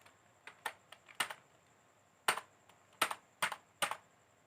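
Numbers are typed on a computer keyboard into the Tally ERP 9 calculator, heard as a close, crisp series of separate keystrokes in small irregular bursts over a quiet background, with no talking.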